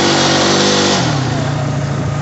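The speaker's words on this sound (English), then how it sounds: "I wonder, can I drift all the way around this cul-de-sac right here?" A Honda ATV engine revving hard while drifting around a neighborhood cul-de-sac, loud and close, with a high rev that drops to a lower, steady droning pitch partway through.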